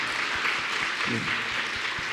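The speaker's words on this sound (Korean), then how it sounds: "우리 격려 박수 한번 드리겠습니다." Congregation giving encouraging applause at a Sunday afternoon church gathering, a brief dense patter of clapping with a few louder distinct claps and a low background tone.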